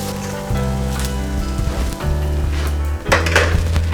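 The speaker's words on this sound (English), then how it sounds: "I'm going to put those right into the frying pan" A potato, onion and egg mixture sizzles steadily in a frying pan, loud and close, with crackling spatter and occasional scrapes and clinks of a utensil against the pan.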